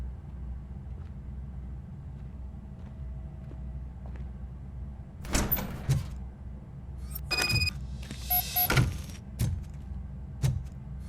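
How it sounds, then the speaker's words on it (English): A door opening in the Robocop: Rogue City video game: a few sharp mechanical clunks and scraping bursts in close succession over a steady low ambient hum. "Now let me get that door open for you."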